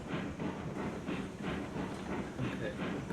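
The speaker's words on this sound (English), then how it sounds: "you can actually hear a train chugging" Steam train in the Railroads Online game chugging steadily, with a repeating rhythmic pulse of about two beats per second and a constant hiss underneath, moderately loud and close.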